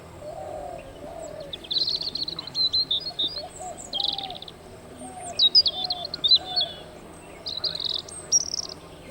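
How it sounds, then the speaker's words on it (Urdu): Sparrows chirp and twitter in quick bursts, with softer cooing calls underneath, all fairly close in a quiet outdoor morning setting. "چڑیوں کی چہچہاہٹ سے صبح آنکھ کھولے"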